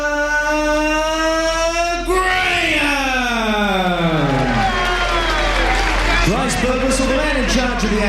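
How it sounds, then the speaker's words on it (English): Crowd applause and cheering for hometown kickboxer Peter Graham at a fight event, a steady loud roar with a booming announcer's voice carrying over it. "what a round of applause there for the Chief, Peter Graham"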